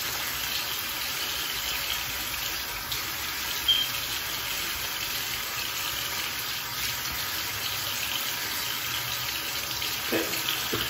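Water runs from a bathroom tap as a face is rinsed, a steady close hiss of flowing water with faint splashes and no talking.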